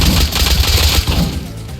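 Rapid gunfire from the survival video game Rust, a dense burst of shots running loud and continuous through the whole moment with no talk over it.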